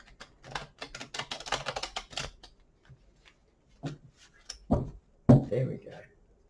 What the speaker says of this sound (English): Maybe I need to give them a bit more of a shuffle.